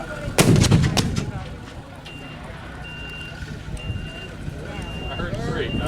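A Civil War reenactment mortar fires with one sharp, loud blast near the start at an anniversary demonstration in Gettysburg, then rumbles and echoes away, followed by a faint repeating beep and distant outdoor ambience.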